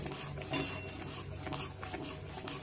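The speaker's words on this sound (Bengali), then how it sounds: "এইভাবে কিন্তু নাড়তে থাকতে হবে" Steady soft scraping and rubbing as rice flour is stirred into milk in a pan to make modak dough, quiet, continuous and close, with no talk.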